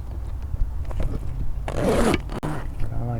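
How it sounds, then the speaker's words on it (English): A zipper on the rear panel of a Jeep TJ frameless soft top is pulled in one long, loud rasping run, close up, with faint sounds of handling around it. "there's the back panel and its zippers"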